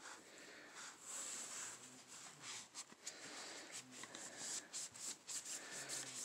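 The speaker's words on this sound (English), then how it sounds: "Use my fingernail with the sock to push into those notches and then spin it around." A sock pressed with a fingernail rubs and spins inside the bolt notches of an AK-47 during cleaning, giving faint, close, scratchy friction strokes in an irregular rhythm.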